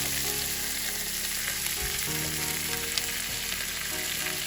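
Chopped onion frying in a pan of hot butter with a little cooking oil, giving a steady close sizzle with occasional crackles and stirring scrapes throughout, no voices.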